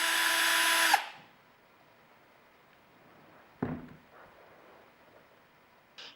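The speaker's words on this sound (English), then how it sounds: "Using an 1/8" drill bit, drill a hole 1 mm in front of the bucking lips at the intersection of the chamber and the pickup tube." A drill with a 1/8-inch bit bores a hole into the chamber of an airsoft gun, giving one loud whirring burst of about a second that stops abruptly. A quiet pause follows, broken by a single clunk and a faint tap.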